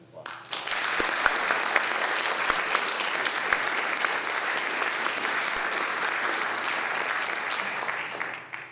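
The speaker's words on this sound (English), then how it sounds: "Let's give them a round of applause" Audience at a college teacher appreciation night applauding honorees, dense steady clapping that starts abruptly and holds for several seconds, with a little faint talk underneath.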